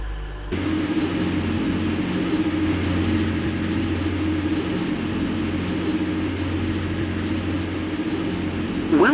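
An AirLink Class 185 train in Roblox Stepford County Railway, running from Stepford Central toward Airport Terminal 3, starts up and then holds a steady engine drone with a sustained tonal hum, loud and constant, with no talking.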